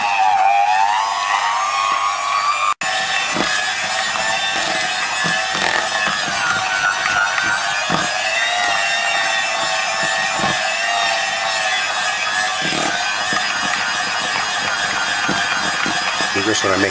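Christmas cake batter being mixed with an electric mixer, a steady loud mechanical whir running continuously with faint rhythmic scraping throughout.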